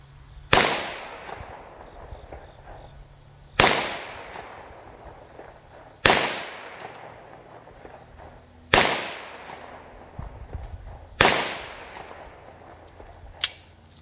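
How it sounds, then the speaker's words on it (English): Five sharp .45 ACP shots from a 1911 pistol fired outdoors at a 200-yard target, evenly spaced about two and a half seconds apart, each a loud crack trailing off into a short echo. "Let's do five more rounds."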